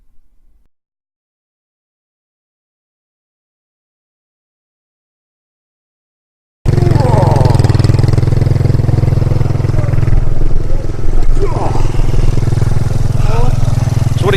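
Motorbike engine climbing a steep mountain road in Thailand, a loud steady mid-pitched drone with clatter that starts abruptly after several seconds of silence and runs continuously close by.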